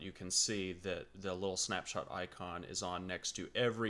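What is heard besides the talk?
No everyday noise stands out behind the speech.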